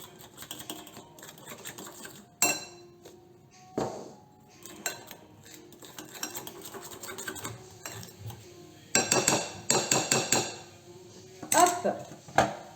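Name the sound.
stirring oat bran pancake batter in a bowl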